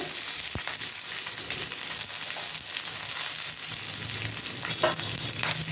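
Curry leaves and three green chillies frying in hot oil in a pan, a steady loud sizzle and crackle running throughout with a few sharper pops and spatters.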